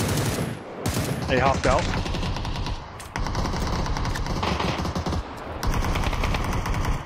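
Sustained automatic gunfire from the PUBG battle royale game rattles loudly through the whole stretch in dense, rapid bursts with only momentary breaks, while a player briefly speaks over the shooting.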